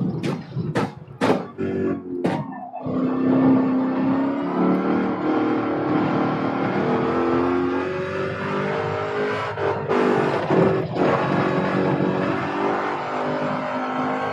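Chevrolet Corvette racing in Gran Turismo 7 at Barcelona, a loud engine revving hard through gear changes with sharp cuts at the start, then a sustained high-pitched rising and falling race-car drone.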